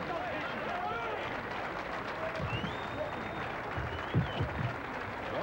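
A crowd applauds at the end of a heavyweight boxing main event in Pennsylvania, a steady wash of clapping and cheering from a distance with a commentator's voice over it.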